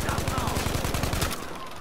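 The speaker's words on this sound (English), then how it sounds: "I'm getting shot from every direction." Gunfire in the video game Battlefield V, a rapid automatic burst of loud, sharp shots in a fast even rhythm that cuts off abruptly, close and dominant.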